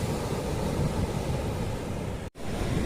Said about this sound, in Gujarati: મોજા તમે જોઈ શકો છો.